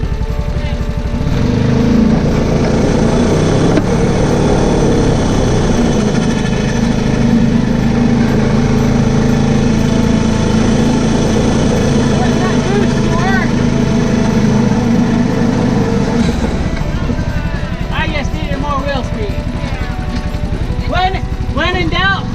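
A 1999 Yamaha Warrior 350 ATV's single-cylinder engine drones loud and constant, then falls away before a series of sharp revs rise and drop near the end.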